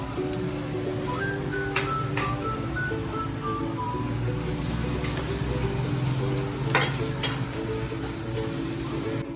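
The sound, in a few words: ginger garlic paste frying in a pan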